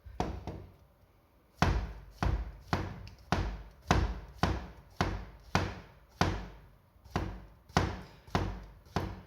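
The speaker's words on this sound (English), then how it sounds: "we're gonna have to settle for this test with the zucchini" A Dalstrong vegetable knife chops through zucchini on a cutting board, about a dozen crisp, evenly spaced thuds that are close and clear, with no talking.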